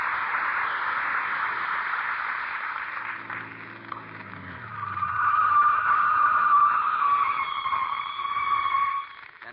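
A car on the way to the fairgrounds skids to a stop, its worn-out brakes squealing in a long high whine over a hissing, noisy background, louder toward the end before cutting off; no talking.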